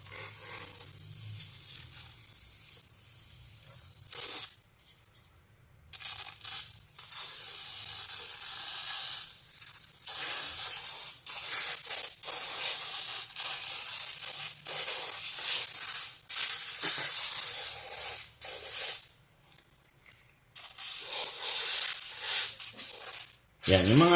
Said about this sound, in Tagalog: gagawin nyo lang is spray nyo lang yan.